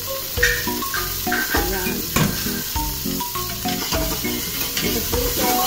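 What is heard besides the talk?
garlic sautéing in oil in a pressure cooker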